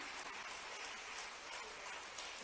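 A crowd in a hall at an official government event applauds with a dense, steady wash of clapping that stays even throughout.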